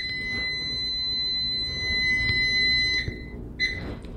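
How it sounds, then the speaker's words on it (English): A kitchen timer on a Dash Mini waffle maker sounds a shrill, piercing steady electronic tone while a chaffle cooks, held for about three seconds, cut off, then chirping once more briefly. "Timer."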